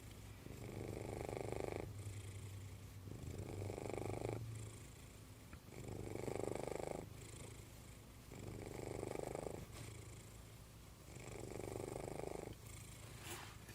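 A kitten purrs softly and close up in slow, even cycles, each rumbling purr swelling and fading about every two seconds across a quiet room, with no voices.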